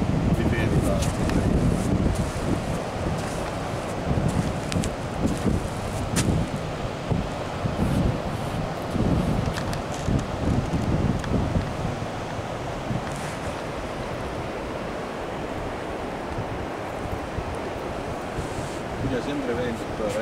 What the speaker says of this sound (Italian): Tira sempre vento qua, ragazzi.